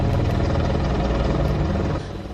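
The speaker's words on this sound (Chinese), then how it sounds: "5只阿帕奇直升机伫天顶摆做三角形做飞机飞" Five Apache military helicopters fly over Taipei in triangle formation during an early-morning National Day flight rehearsal, a loud, steady rotor and engine roar that drops slightly in level near the end.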